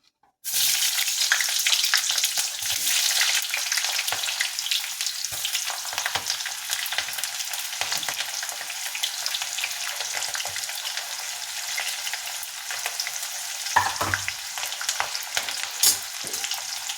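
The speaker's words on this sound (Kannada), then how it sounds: "ಇದರಲ್ಲಿ 1 ಆನಿಯನನ್ನು ಫ್ರೈ ಮಾಡೋದಕ್ಕೆ ಸೇರಿಸ್ಕೊತಾ ಇದ್ದೀನಿ." Sliced onion drops into hot oil in a pan and sets off an instant, loud, continuous sizzle that crackles steadily without letting up, with a brief clatter partway through.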